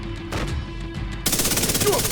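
Submachine-gun fire from a Chatterbox SMG in the video game The Division 2: a sparse opening with a few shots, then a sustained rapid automatic burst from about 1.2 seconds on, loud and close.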